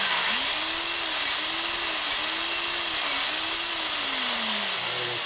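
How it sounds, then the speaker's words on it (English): A hand drill reams a bushing in a 2001 Indian Scout 88ci big-bore S&S motorcycle engine, whirring steadily with a slightly wavering pitch under a constant hiss, close, with no talk. "Just don't quite use all the weight of the drill, just try to do light pressure,"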